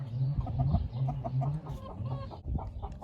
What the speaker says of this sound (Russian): Вот такие шелковые курочки.